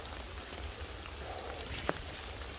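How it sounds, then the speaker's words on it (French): Steady rainfall hisses as a broad wash of noise throughout, with one sharper drip or tap standing out near the end. "Et là pour la pluie c'est bon, hein. Il y a ce qu'il faut là,"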